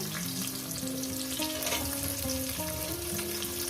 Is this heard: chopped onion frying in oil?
yes